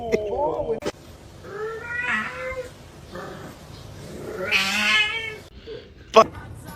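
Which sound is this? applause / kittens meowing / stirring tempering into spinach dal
kittens meowing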